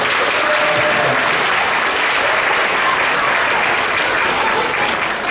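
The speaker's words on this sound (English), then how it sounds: "I give you a thunderous round of applause for having your pencils." Loud, continuous applause fills the room as a middle school sixth grade band audience claps in a dense, unbroken wash.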